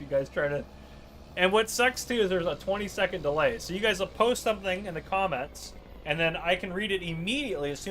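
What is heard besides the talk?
No everyday noises stand out.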